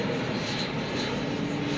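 An American Airlines jet in Piedmont heritage livery with a cheat line passes at DFW Airport, a steady broadband engine roar filling the short moment without break, fairly close and unaccompanied by talk.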